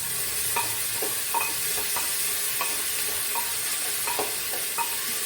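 Ginger garlic paste and onion frying in a pan, with a steady hiss of sizzling and a series of light scraping stirs scattered through, heard up close with no talking.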